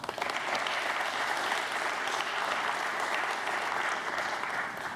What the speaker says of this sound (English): Let's give Hyunjin another round of applause.